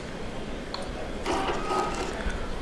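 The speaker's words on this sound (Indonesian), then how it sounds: "Kemudian kita coba print hasilnya, di mana timbangan ini terhubung ke printer RedWalk RTP menggunakan koneksi" A RADWAG RTP printer, linked by WiFi to a RADWAG XA 53.5Y microbalance, prints out weighing results with a soft mechanical whirr and ratcheting clicks. It gets louder midway through against a quiet room hum.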